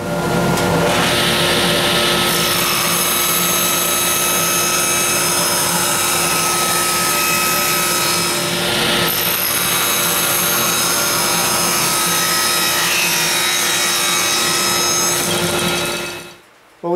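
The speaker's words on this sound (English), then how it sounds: "we're going to go ahead and rip these 3/8 boards into 1-inch" A power saw rips 3/8-inch wooden boards into 1-inch strips, a loud continuous whine with steady cutting noise that runs unbroken for about sixteen seconds before spinning down at the end.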